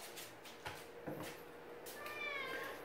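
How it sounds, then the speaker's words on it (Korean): A house cat meows several times indoors before a bath, faint and fairly close, with soft scattered cries and a longer wavering meow near the end. "냥이를 데리러 가야겠죠"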